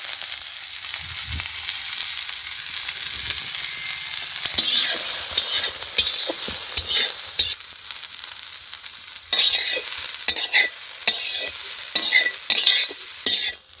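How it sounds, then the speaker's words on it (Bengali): Onions frying in hot oil for chicken biryani, a continuous loud sizzle with repeated scraping and stirring knocks, getting busier and louder in the second half, close by and with no speech. "পেঁয়াজটাও ভেজে নিয়ে নেব। পেঁয়াজটাও ব্রাউন করে নেব।"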